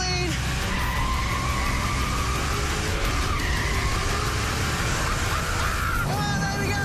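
A supercharged car skids through a race track corner, tires squealing over a loud, continuous engine roar and supercharger whine, with voices talking over it.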